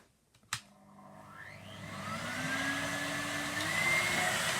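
A Numatic Bertie vacuum cleaner, B&Q edition, clicks on and its motor whirs up to a steady, loud drone that rises in pitch as it reaches full speed and then holds there, with no talking.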